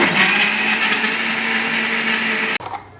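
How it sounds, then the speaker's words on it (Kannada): Mixer grinder whirs loud and constant as it purees peeled, chopped tomatoes in a home kitchen, running alone for under three seconds before stopping abruptly. "ಹಾಕ್ಕೊಂಡು ಇವಾಗ ಮಿಕ್ಸಿ ಮಾಡ್ಕೊತೀನಿ"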